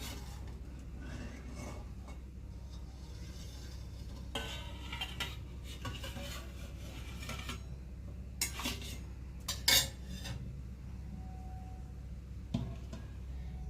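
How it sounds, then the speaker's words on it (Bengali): A steel tiffin box is lifted out of a covered wok while steaming hilsa, bringing scattered metallic clinks and scrapes with a brighter clatter near the end, heard close over a steady low hum. "কড়াই থেকে তুলে নিচ্ছি টিফিন বক্সটা।"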